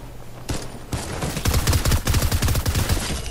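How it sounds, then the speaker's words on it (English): Infantry rifle fire in Fortnite's Gun Game mode rings out loud and near: a couple of separate cracks come first, then a rapid string of shots pops in a quick, even rhythm until the end. "infantry rifle"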